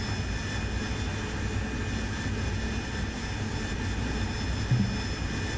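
An AV-8B Harrier's jet engine drones in the DCS World flight simulator during a descent, a steady loud whine and roar holding unchanged with no talk.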